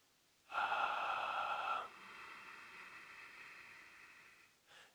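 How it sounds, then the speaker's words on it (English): Ujjayi yoga breath: a loud, steady whooshing exhale constricted at the throat, then continuing more softly once the lips close halfway, ending with a brief faint breath. "As I exhale, I'm going to close my lips halfway through my breath."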